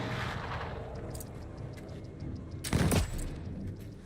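Gunfire on a battlefield in the video game Mistfall Hunter, a rumbling distant fusillade with one loud close burst of shots near the end.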